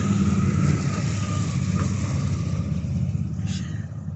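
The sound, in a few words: motorcycles passing behind the speaker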